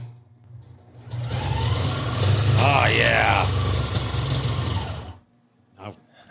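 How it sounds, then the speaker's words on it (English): A blender whirs as it mixes ice cream for a bourbon drink, a steady motor drone lasting about four seconds, rising and wavering as the contents churn, then cutting off; voices talk over it and briefly afterwards. "So now I've got it in the blender, and I'm going to just turn on a little bit before we add the bourbon."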